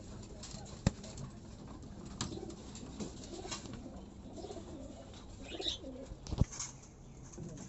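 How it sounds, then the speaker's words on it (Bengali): Pigeons of good bloodlines in a loft coo softly and continuously at close range, with a few sharper knocks and a brief louder flurry partway through. "তো এখানে কিছু ভালো ভালো ব্লাড লাইনের কবুতর আছে"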